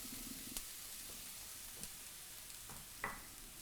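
Chopped onion fries gently in olive oil, a faint, soft sizzle close by, broken by a few light clicks and taps from stirring.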